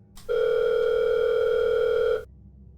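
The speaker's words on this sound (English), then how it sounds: "Daniel's phone rang again." A phone rings with a single steady electronic tone, loud and close, sustained for about two seconds and then cutting off abruptly, with no other sounds.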